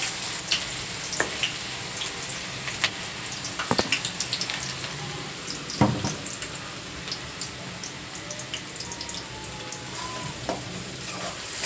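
Chopped onions fry in hot oil for an Andhra-style raw prawn gongura curry, producing a soft, steady sizzle with scattered pops and occasional stirring clicks, close but fairly quiet.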